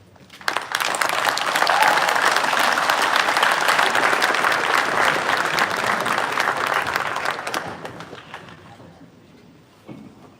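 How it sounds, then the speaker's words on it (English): Audience at a leadership award ceremony applauding, a dense sustained clapping that swells quickly, holds for several seconds and then thins out and fades, with a brief final patter near the end. "Let's give a round of applause for all who have put in the hard work, dedication, and sacrifice."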